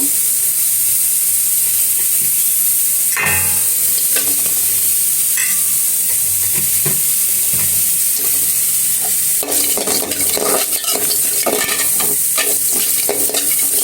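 Chopped onions fry in oil in a cooking pot with a steady, loud sizzle throughout, broken by occasional stirring scrapes and clatters, with no talking.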